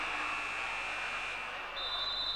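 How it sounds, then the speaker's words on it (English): A buzzer sounds for a timeout during a Czech Republic versus Thailand match. A steady electronic tone holds, then shifts higher, over an indoor arena ambience with faint voices beneath. "Buzzer goes. Timeout's called."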